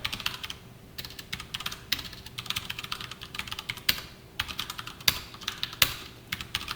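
Keys clatter on a computer keyboard in quick irregular bursts of close, crisp taps, broken by short pauses, while someone writes a post in a Java text bulletin board program.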